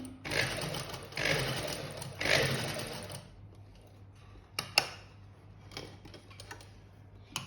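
Sewing machine stitching a side seam, three short close bursts of rapid stitching followed by quieter clicks and handling noises, with no talk.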